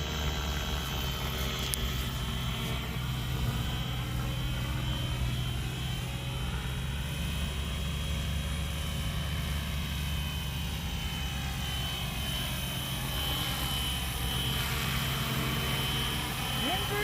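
Close and continuous, the rotor and motor whine of a FlyWing FW450 V3 RC helicopter with an H1 flight controller rises and falls in pitch as it flies and flips inverted, loud and steady for the whole stretch.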